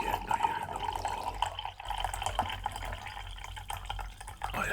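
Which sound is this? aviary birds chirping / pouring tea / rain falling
pouring tea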